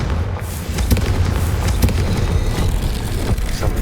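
Confringo fire-spell blasts in Hogwarts Legacy rumble loudly and continuously, with crackling bursts and several sharp pops scattered through a dense low roar.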